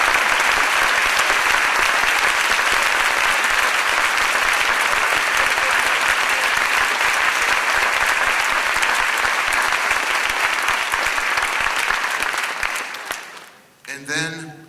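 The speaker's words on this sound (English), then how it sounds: "Please, class of 84, please rise for a special round of applause." Long, dense applause fills an auditorium as the class of 1984 rises at a school performing arts center dedication, loud and continuous before fading out near the end, where a voice begins.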